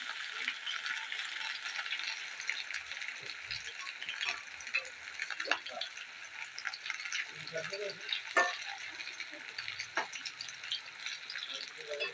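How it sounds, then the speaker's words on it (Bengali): Slices of bitter gourd frying crisp in hot mustard oil in a wok over a stove, a steady loud sizzle throughout with occasional scraping and stirring clicks. "উচ্ছটা কিন্তু আমার এক পিট ভাজা হয়ে গেছে মচমচে করে এবার আমি উল্টে দেব"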